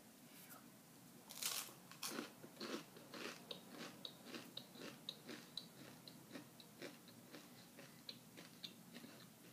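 Crisp, crunchy bites and chewing of a rice cake spread with European-style cultured vegan butter with sea salt, heard as close, faint, irregular snaps and clicks over several seconds.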